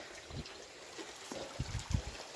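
Water flows through a freshly cleared channel as a faint, soft trickle with occasional low gurgles and splashes, quiet and close, with no talking.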